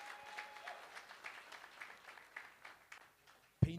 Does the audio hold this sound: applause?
yes